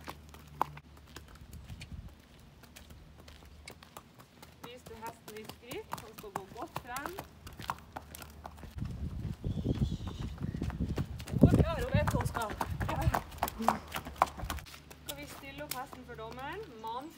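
Horse hooves clip-clop steadily on firm ground at a horse show, a trotting rhythm that grows louder midway, with a person talking over it.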